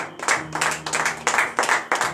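A church congregation at a morning prayer gathering claps in rhythmic acclamation, loud, close bursts of hand claps in a steady pulsing pattern.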